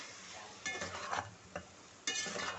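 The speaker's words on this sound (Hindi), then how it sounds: "बस इसको अच्छे से 1-2 मिनट भुनेंगे" Okra masala is stir-roasted in a pan, with faint sizzling broken by a few scraping stirs of a spoon against the pan, quiet and close.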